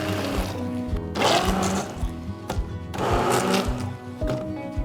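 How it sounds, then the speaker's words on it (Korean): A hand blender grinding garlic, ginger, onion and fish sauce for young radish kimchi, with a loud whirring motor in bursts and the blade rattling against the container, close by. "핸드블렌더 쓰실 때는 꼭 수직으로 세우셔야 돼요"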